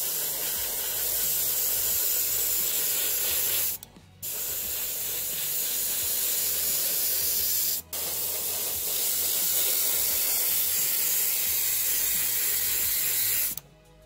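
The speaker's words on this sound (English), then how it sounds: "I'm going to be priming the model with Vallejo's Mecha Color Primer" Steady airbrush hiss spraying Vallejo Mecha Color primer onto an M3 Lee scale model, close and continuous, broken by two brief pauses and cut off at the end.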